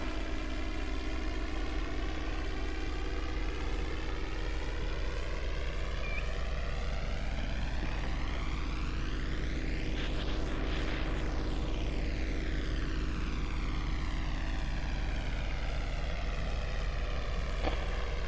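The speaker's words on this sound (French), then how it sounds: "C'est bien un petit avion." A small propeller airplane passes overhead, its steady engine drone sweeping up and then down in pitch as it comes close and moves away, loud and continuous, with no voices.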